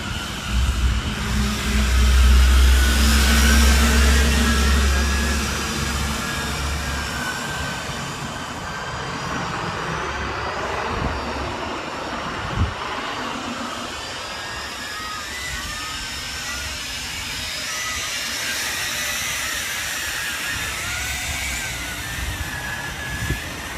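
A JJRC X6 Tarantula drone flies and climbs in strong wind, its steady motor whine loud and close at first, then holding at a slightly lower level with wind buffeting throughout.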